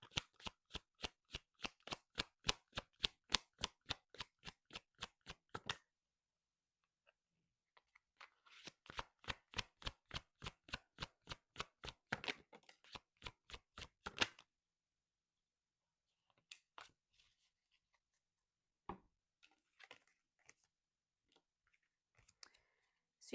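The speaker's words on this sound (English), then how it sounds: "let's get a couple of oracle cards" Oracle cards shuffled by hand in two long bursts of rapid, evenly spaced riffling flicks, close and crisp, followed by a few scattered soft card taps and slides in an otherwise quiet room.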